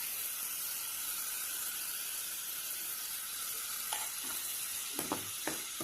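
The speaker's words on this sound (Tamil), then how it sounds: "இந்த தக்காளி பேஸ்ட் ஆட் பண்ணி ஒரு 3 நிமிஷம் நல்லா வதங்கட்டும்." Tomato paste sautés in a pan for a street-food-style chana masala gravy for masala puri chaat, giving a steady, even sizzling hiss. A few soft clinks and stirring knocks come near the end; no voices.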